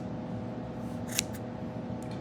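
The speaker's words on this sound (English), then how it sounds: "I'm just gonna stick the scissors in the loops, pull up, and just cut them apart" Scissors snip through loops of bow string silencer material with one crisp cut in the middle and a fainter snip near the end, close against a low steady background hum.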